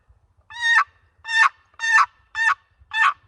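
A turkey box call gives five raspy, evenly spaced yelps, loud and close, with short silences between each stroke.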